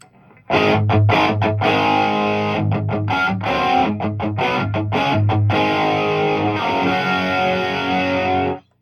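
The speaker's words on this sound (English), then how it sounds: "So the Harmonist is, think of it kind of like a chorus pedal." An electric guitar through a JCM800 Studio amp and Harmonist pedal plays a rhythmic riff with a shimmering, doubled chorus-like effect and distorted tone, loud and alone, ending abruptly.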